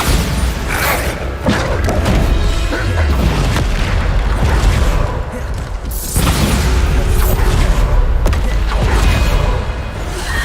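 Bombarda blasting spell explosions in the game Hogwarts Legacy, loud booming blasts with thuds and crackling debris, several heavy hits spread across the stretch, including sharp bursts near the start, middle and end.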